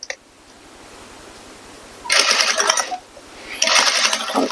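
A sewing machine stitches rideline boning channels onto a corset modesty panel, running in two short bursts of rapid whirring, each lasting about a second, close up after a quiet lead-in.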